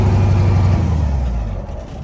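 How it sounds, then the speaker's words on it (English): A jump-started truck engine runs loudly and close up with a rough, rumbling tone that weakens slightly over two seconds, as though the revs are dropping. "I'm gonna speed the truck up so it stays running"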